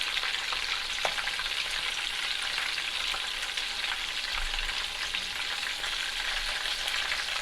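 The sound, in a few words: meatballs frying in a pan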